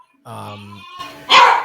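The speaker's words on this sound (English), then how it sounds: "that's my dog barking at me." A dog gives a short bark and a yip, close and loud, following a brief whine-like vocal tone.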